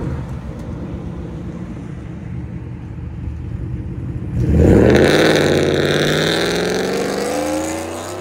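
E85-tuned Ford F-150 5.0L V8 with long tube headers and Dynomax Race Bullet side exhaust with 4-inch tips rumbles at idle, then revs hard midway into a loud, roaring swell that holds and slowly eases back down.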